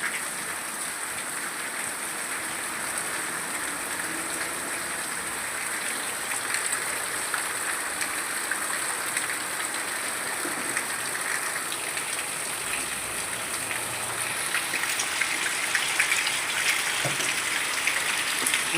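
Heavy rain falls over a village in an even, unbroken hiss and patter, moderately loud and constant throughout, with no voices.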